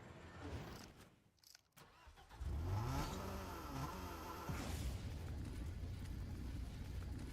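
A car engine in a video game turns over and revs up, loud and steady. A rising mechanical roar kicks in partway through and keeps going to the end, with no voices over it.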